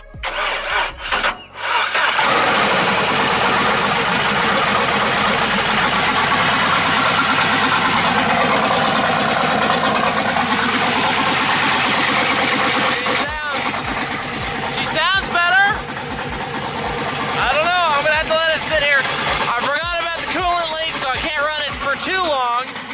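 A twin-turbo LS V8 swapped into a Foxbody Mustang cranks and catches, then runs loud and steady at idle for the rest of the stretch, with wavering whine and rev changes near the end.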